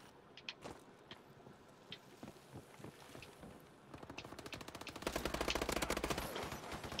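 Gunfire in Call of Duty: Advanced Warfare, scattered single shots at first, then a rapid continuous machine-gun burst that grows louder and denser toward the end.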